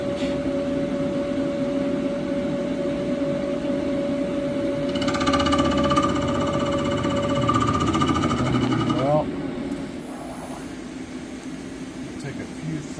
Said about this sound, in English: Take a few thousandths and shave the face.